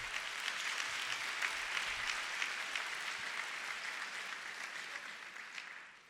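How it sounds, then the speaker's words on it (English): Sustained applause from a graduation ceremony audience, dense and steady clapping throughout, tapering slightly at the end with no talk over it. "So let's give them one round of applause as well."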